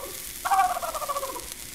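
A voice imitates a turkey gobbler gobbling on an early acoustic 1906 Victor record, one sustained, wavering burst of a bit over a second, loud and alone against the recording's faint hiss.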